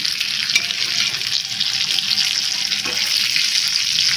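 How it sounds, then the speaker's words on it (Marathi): Fish frying in oil in a pan on a home stove, a steady close sizzle and crackle running evenly throughout with no talking. "आता बाकीचं राहिलेलं पण आपण अशा पद्धतीने तळून घेऊया"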